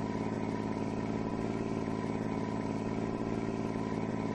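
Steady engine drone of a Mercedes semi truck idling in American Truck Simulator, played on a racing wheel rig, holding a constant even rumble throughout with no talk over it.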